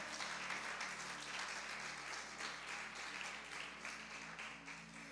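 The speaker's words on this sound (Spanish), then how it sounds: "si va a aplaudirle, apláudale bien, que es para Él." A church congregation applauds during a service, a sustained, dense clapping that holds steady and fairly distant before tapering slightly at the end, with a low hum beneath and no speech.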